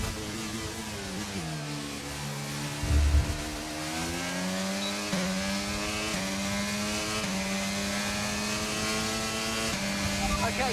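Formula One race car in the F1 23 video game, its engine note climbing steadily through repeated gear shifts in a loud, continuous whine after a brief low rumble.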